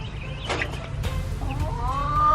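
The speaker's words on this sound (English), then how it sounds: "we've got black copper morans in there. They're doing really well." Black Copper Marans chickens cluck in a coop, a few soft short calls rising over steady low background noise and ending in a longer drawn-out note.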